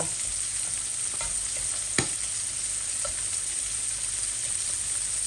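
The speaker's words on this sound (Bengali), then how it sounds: "মাছগুলো আস্তে আস্তে ভাজা হোক।" Hilsa fish frying slowly in hot oil makes a dense, even, steady sizzle that holds throughout, with one sharp click partway through.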